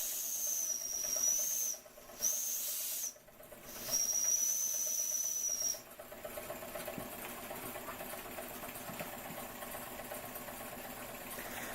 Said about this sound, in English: Jensen 75 under steam.